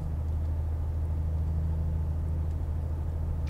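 A race car engine rumbles steadily at close range during an overtaking move, a constant low drone with faint higher whines and no speech.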